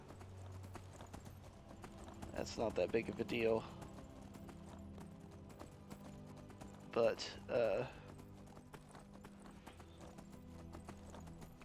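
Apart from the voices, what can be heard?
horse hooves clip-clopping, video game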